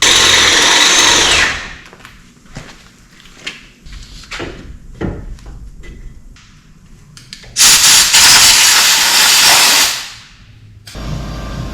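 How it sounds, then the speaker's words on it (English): Power drill boring into the bottom of a Volvo V70R brake caliper to prepare it for a helicoil, loud grinding bursts at the start and again near the end, with quieter clanks and handling noises in between. "It's a drill bit, because we're about to install a helicoil on the bottom of my caliper."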